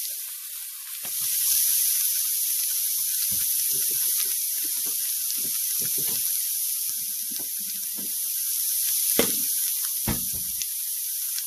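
Sausage frying in a pan for sausage gravy, a steady close hiss of sizzling fat running throughout, broken by a few soft clunks and scrapes of a utensil, with two sharper knocks near the end.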